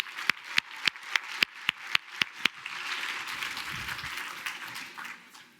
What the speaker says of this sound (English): Give yourself an applause as you take your seat.